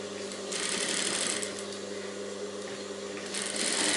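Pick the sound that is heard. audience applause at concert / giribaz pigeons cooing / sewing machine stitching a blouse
sewing machine stitching a blouse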